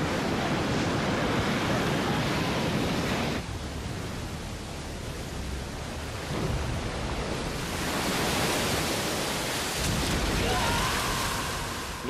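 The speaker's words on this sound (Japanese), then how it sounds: "おお、めっちゃ津波が来た。" Tsunami waves in the game Romancing SaGa Minstrel Song roar and crash as a loud, continuous wash of surf, swelling and surging in waves across the whole stretch.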